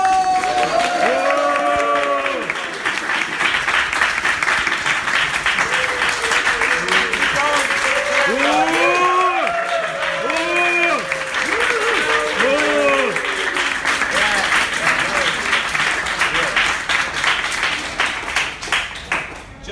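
Dense, loud applause and cheering from a fan meetup crowd in Hong Kong welcoming host Chris Chappell, with sustained clapping throughout and excited voices and whoops rising over it.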